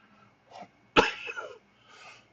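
A person lets out a sharp, harsh cough with a wheezy, whistling edge, framed by softer breathy sounds before and after, close to the microphone.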